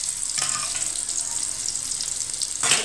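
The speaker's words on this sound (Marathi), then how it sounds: "आता हा कांदा होऊ द्यायचा, छान असा परतू द्यायचा, लालसर होईपर्यंत छान होऊ द्यायचा." Sliced onions sautéing in oil in a home kitchen pan, a loud continuous frying hiss with a brief stir near the start and another louder one near the end.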